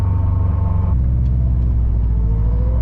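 A 2018 Subaru WRX STI engine pulling in second gear, a loud, steady low rumble from inside the car with a slight pitch shift partway through as the revs change.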